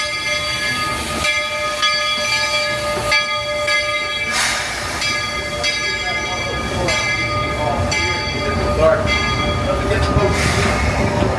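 A train pulls into the Magic Kingdom railroad station with a bell clanging in a steady rhythm and rumbling wheels and machinery nearby, while park crowd noise continues in the background.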